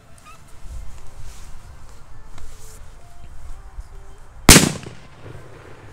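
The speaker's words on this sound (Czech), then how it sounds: "Tak jdeme na petardu Shark PS2." A Shark PS2 firecracker goes off with a single sharp, loud bang after several seconds of faint outdoor background, the blast cutting off quickly into a brief echo.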